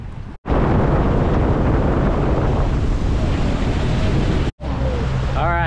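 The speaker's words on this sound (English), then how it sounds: "Oh, watch out, boys. The boat's coming in." A loud, steady roar of a motorboat engine passing on a river in North Carolina, mixed with heavy wind buffeting, broken by two brief dropouts.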